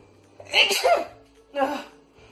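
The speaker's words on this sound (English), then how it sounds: "I'm gonna sneeze" A single sneeze bursts out, loud and close, followed a moment later by a shorter second burst of breathy sound.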